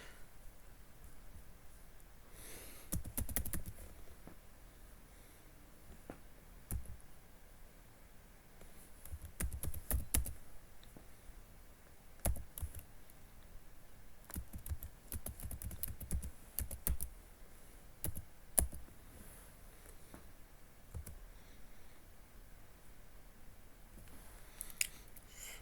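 Computer keyboard typing while entering a username and commands in a lab setup, heard as bursts of close, crisp key clicks separated by pauses over a faint steady background hum.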